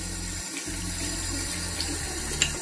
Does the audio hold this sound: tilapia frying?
no